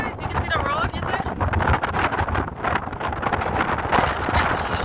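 Strong wind buffeting the microphone at Blue Basin Waterfall, a rough gusting roar that stays loud throughout while people talk and exclaim over it.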